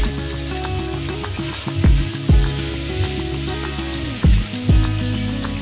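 A prawn and mixed vegetable fry sizzles steadily in a pan, a dense frying hiss broken by a few soft knocks and scrapes as the mixture is moved about.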